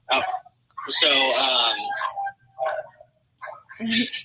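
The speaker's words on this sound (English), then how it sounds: "Dogs in the background." Dogs barking nearby in bursts, with a long yelping, whining bark in the middle and shorter barks around it, mixed in with people speaking.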